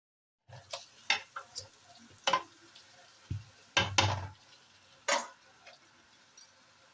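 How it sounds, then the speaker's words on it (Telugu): Turmeric and ginger-garlic paste frying in a pan, with scattered spoon stirs and scrapes in short irregular bursts over a soft sizzle, fairly quiet and close. "పసుపు, అల్లం వెల్లుల్లి పేస్ట్ అన్నీ మంచిగా పచ్చి వాసన పోయే వరకు ఇలా ఫ్రై"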